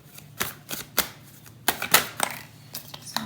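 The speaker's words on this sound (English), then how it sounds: "So I'm shuffling your cards right now." Tarot cards being shuffled by hand: a series of quick, crisp riffling flicks and taps in an irregular rhythm, close and fairly quiet, with no talking.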